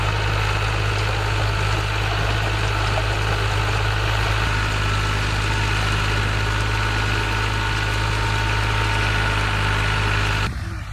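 A tractor with some mechanical problem idles in a village farm field where a rotavator is used, its steady low diesel drone running unbroken and loud for the whole stretch before cutting off abruptly at the end.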